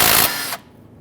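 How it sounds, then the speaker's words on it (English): A power tool on a 2007-2014 Cadillac Escalade brake caliper slider pin bolt buzzes loudly and briefly, its pitch dropping partway through before cutting off into near silence. "So I'm just going to put a 19mm wrench on the inside while I loosen the outside."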